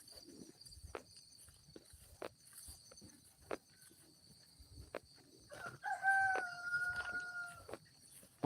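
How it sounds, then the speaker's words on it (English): Chickens cluck and scratch outdoors with sharp intermittent sounds, then a rooster crows clearly near the end, mid-distance and fairly quiet. "chickens are raising hell"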